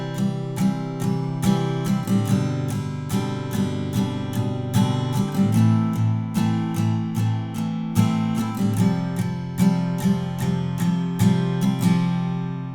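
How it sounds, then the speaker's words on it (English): An acoustic guitar strums the verse chords of a song in a steady, rhythmic pattern, played alone and close for about thirteen seconds before ringing out. "So we apply the strumming pattern to each one of those chords"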